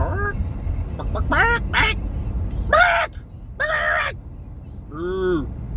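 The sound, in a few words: voices imitating farm animal noises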